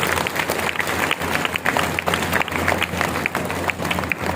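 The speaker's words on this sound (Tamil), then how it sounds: "அப்படின்னா ஒரு கைதட்டு தட்டுங்க" A crowd claps at a state-level International Women's Day celebration, with steady dense applause and sharp individual claps over a low constant hum that runs throughout.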